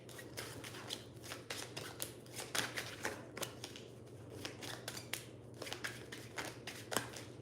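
Tarot cards being shuffled by hand, a steady run of soft papery riffles and flicks repeating close up over a low background hum, with no talking.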